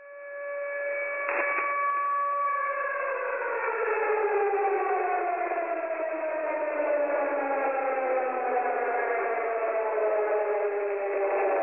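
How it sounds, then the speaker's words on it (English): A nuclear attack warning siren wails steadily and loudly, its tones sliding downward after a brief start, sustained without pause. "has also been playing a nuclear attack warning siren frequently too"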